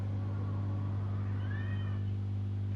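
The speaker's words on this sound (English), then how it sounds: "Sounds like a cat." A house cat named Phoebe meows once, a short faint rising call partly buried under a loud steady electrical hum, late at night indoors.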